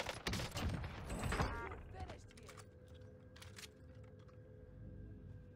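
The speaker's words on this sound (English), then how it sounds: "Owen gun from 10 meters with the Gawain 188 millimeter shrouded." An Owen gun fitted with a Gawain 188 millimeter shrouded barrel fires a fast burst from 10 meters during weapon testing. Sharp clattering shots sound near and loud at first, then give way to quieter mechanical clicks and ticks.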